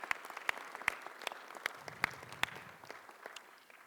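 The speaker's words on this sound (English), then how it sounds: "Let's give Mayor Goodman another big, big round of applause" Sparse, scattered clapping from a small number of hands at the US Conference of Mayors in Las Vegas, honoring Mayor Goodman; individual claps stand out clearly, fairly faint and tapering off.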